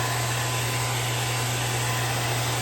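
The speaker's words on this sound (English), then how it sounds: "Little hair dryer." A small hair dryer blows as a steady, loud, unbroken whoosh with a low motor hum underneath, close and continuous throughout with no voices.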